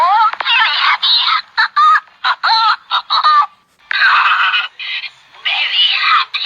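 Very happy sounds from a talking Teletubbies plush toy: tinny, squeaky electronic giggles and chirps in quick uneven bursts, loud and close, with no other sound.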